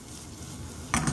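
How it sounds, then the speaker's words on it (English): Onion and garlic sauté in a pan with a soft, steady sizzle, then a brief louder scrape of stirring at the end. "So we're gonna saute this down a little bit. And we're gonna add some garlic."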